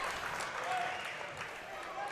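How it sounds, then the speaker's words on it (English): Crowd noise at a high school wrestling match between Perham and Detroit Lakes, a steady roar of cheering and clapping from a packed gym that holds level throughout, with an announcer's voice running over it. "the crowd is into this one"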